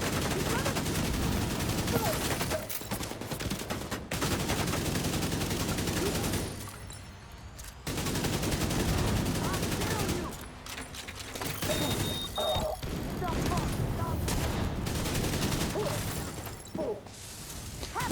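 Rapid gunfire in a shooter video game, with bursts of automatic shots and crashes in dense clusters that stop briefly twice and then resume at full loudness.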